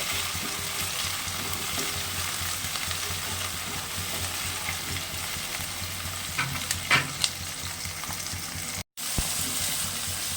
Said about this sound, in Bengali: পেঁয়াজ টমেটো ভাজা ভাজা হয়ে গেছে